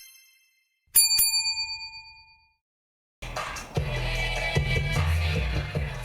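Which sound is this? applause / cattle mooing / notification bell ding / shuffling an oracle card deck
notification bell ding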